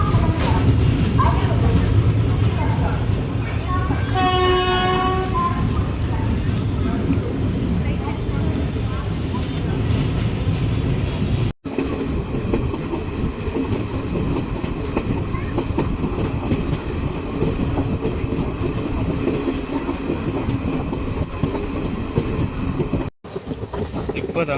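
The Tambaram-Trichy Express runs along the main line with a steady rumble and rhythmic clatter of wheels on rails, close and loud throughout. A brief horn sounds early on, and a voice talks over it.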